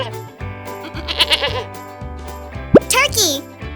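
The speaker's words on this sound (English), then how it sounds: "How does a goat sound?" Goat bleats from a children's farm animal sounds lesson, several wavering calls with a sharp rising bleat near the end, loud and close over a repeating musical backing.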